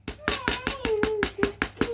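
A small rubber mallet taps repeatedly on a Skmei 1155 analog watch being opened for a battery change, giving about nine close, evenly spaced knocks with a faint ringing tone between them.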